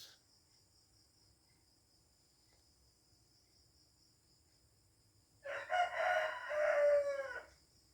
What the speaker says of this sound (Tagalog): nag-aalaga kami ng mga manok.